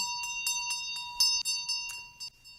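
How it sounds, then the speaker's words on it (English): A howdy bell rung for a break, a quick run of about ten bright, ringing strikes with sustained metallic overtones, close and clear, no voices over it. "there's the howdy bell"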